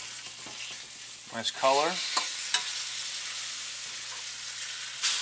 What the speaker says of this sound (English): we're going to pan fry this on the other side